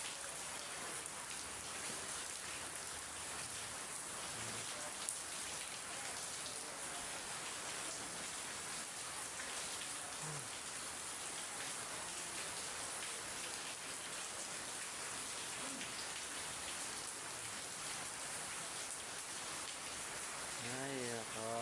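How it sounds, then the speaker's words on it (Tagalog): Heavy rain pours steadily during a typhoon, a dense, continuous hiss of drops on surfaces with a faint television murmuring in the background. "Ayan, lakas na naman ang ulan."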